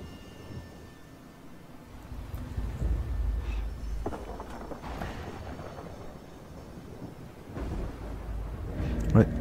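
Low rolling thunder rumbles during a ritual in the Total War Warhammer 2 strategy game, swelling in several deep waves under an ongoing game soundscape.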